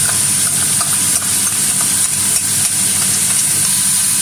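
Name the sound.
garlic ginger paste frying with meat in a pan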